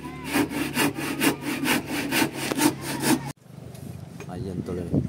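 Quick, rhythmic hand-saw strokes rasp through wood up close, then stop abruptly, leaving a quieter background where faint voices can be heard.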